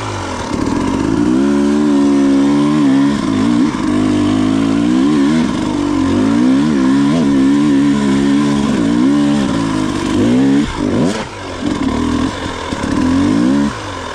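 Stark Varg electric dirt bike climbing a hill off-road, a loud, steady whine rising and falling as the motor pulls through the terrain, close and continuous for the whole stretch.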